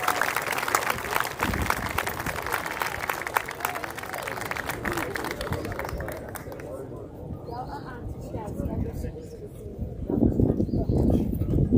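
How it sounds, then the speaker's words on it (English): At a high school senior athlete recognition event, scattered hands clap for a senior baseball player in sharp, uneven taps, fairly close, then thin out to quieter sounds before a short renewed burst near the end. "Give a round of applause, Jay Polite."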